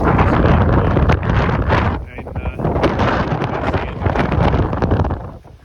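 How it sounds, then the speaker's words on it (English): Wind blows outdoors in a garden where dahlia tubers are being lifted for winter storage, a loud, broadband buffeting roar against the microphone that persists throughout with a brief dip in the middle. "wind's probably kicking in"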